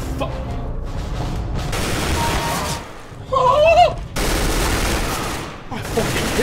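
Gunfire from the video game CS:GO comes in loud bursts with an abrupt gap partway through, while a voice shouts over the shots.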